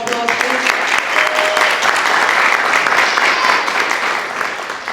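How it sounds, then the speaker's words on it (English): Loud, continuous applause from the audience at a community event for fathers, a dense even wash of clapping sustained across the whole stretch with some faint voices mixed in. "Can we give her another round of applause, please?"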